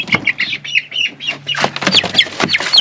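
Chickens in a coop squawk and cluck close by in a rapid, overlapping series of sharp, agitated calls with no pauses and no one speaking.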